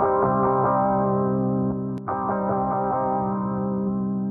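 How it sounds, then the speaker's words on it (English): Ample Guitar TC virtual electric guitar on the bridge pickup with a double effect, a sustained ringing chord that swells wide and thick, briefly cut near the middle with a sharp click, then ringing on. "Then turn on double, so it's going to sound like this without and then with double."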